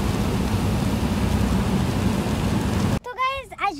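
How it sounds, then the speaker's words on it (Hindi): Heavy rain pours steadily as a dense, loud wash for about three seconds, then cuts off abruptly as a person starts talking. "यहाँ पे बारिश आई जा रहा है, रुकने का नाम नहीं ले रहा है"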